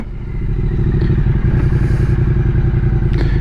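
A 2020 Triumph Street Twin's parallel-twin engine runs close and loud, a smooth, steady pulsing rumble that swells in the first half second and then holds even.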